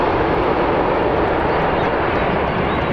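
A jet airliner roars at Birmingham airport, a loud, steady broadband engine rumble that holds evenly without breaks.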